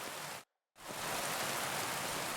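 Heavy rain pours steadily in the Kingdom Come: Deliverance II video game, a dense hiss that cuts out briefly to silence and then resumes at full strength.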